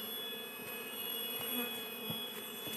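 Bees buzz steadily and faintly while a colony is moved to a new hive, a continuous droning hum with no talk over it.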